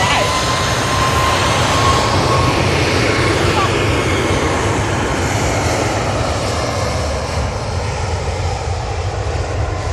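A Virgin airliner coming in to land at Manchester Airport, a loud, broad, continuous jet roar that stays steady throughout and eases slightly toward the end.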